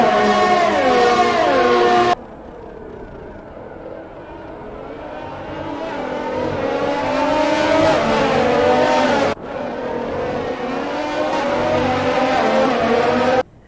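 Formula 1 race car engines in the F1 2020 racing game, loud high-pitched whining revs that rise through the gears and cut sharply at each shift, heard close and continuous.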